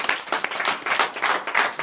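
A congregation at a morning prayer service claps in acclamation, quick uneven handclaps in close succession, loud and near, with no talk over them.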